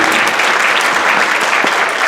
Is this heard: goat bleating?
no